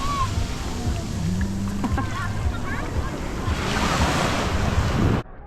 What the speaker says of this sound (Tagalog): Lakas ang alon, babe.